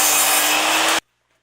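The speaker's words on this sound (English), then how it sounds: "And then you can take your piece to the miter saw to cut." A miter saw cuts through a piece of wood for a birdhouse, a loud, steady buzzing whine lasting about a second before stopping abruptly into silence.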